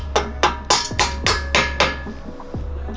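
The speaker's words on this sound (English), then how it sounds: "So I'm gonna get my really expensive Matco hammer." A Matco hammer taps a tight-fitting, powder-coated MOTOBILT rear bumper part into place on a Jeep Rubicon, with seven sharp metallic strikes in a steady rhythm, each ringing briefly, up close and loud.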